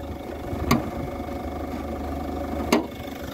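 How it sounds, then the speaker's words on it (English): A 2008 Citroën Dispatch 2.0 HDi van's diesel engine idles steadily nearby, a smooth low rumble with two brief sharp clicks standing out above it. "As you can hear, the engine sounds very sweet. No tapping noises, nothing squeaking."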